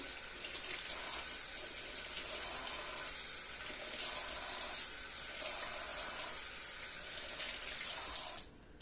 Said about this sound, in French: Et j'ai mes patates que j'ai plus qu'à rincer.